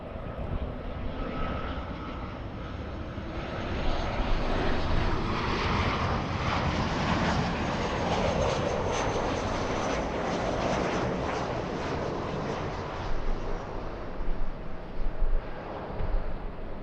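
A Southwest Boeing 737-700 arriving from Sacramento at LAX roars continuously with jet engine noise, loud and sustained throughout, with some wind buffeting on the microphone toward the end.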